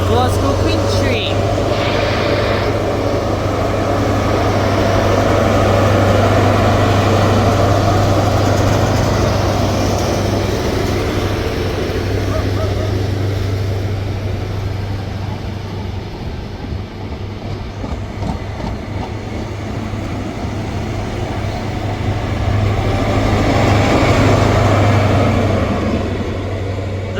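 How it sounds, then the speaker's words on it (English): A ScotRail passenger service from Aberdeen to Glasgow Queen Street pulls out of Monifieth station, a loud continuous engine drone and wheel rumble with clickety-clack that swells and eases over nearly half a minute. "Departing out now is the 1538 Scotrail service from Aberdeen to Glasgow Queen Street."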